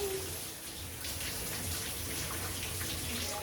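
Cold water pours steadily over hair in a continuous hiss and patter, like a shower rinse, heard close and even with no talking.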